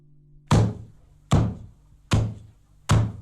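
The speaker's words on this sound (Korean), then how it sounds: "전 문을 두드렸습니다" Four hollow, solid knocks on a door, evenly spaced under a second apart, each a firm thud with a short decay against an otherwise quiet room.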